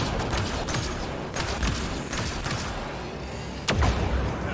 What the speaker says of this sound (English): You can hack the turret, Pathfinder.